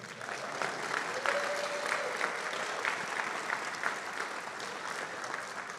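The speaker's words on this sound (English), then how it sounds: "you can clap for them" A room of guests at a college athletics Hall of Fame ceremony claps for honorary inductees, a steady, moderately distant patter of many hands with some sharper individual claps, continuing evenly without talk.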